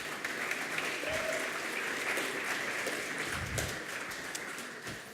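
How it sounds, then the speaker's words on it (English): An audience at a blockchain hackathon in Stuttgart claps for a presenting team, a moderate, even patter of applause that goes on for about five seconds with a few voices faintly underneath. "Big applause for them"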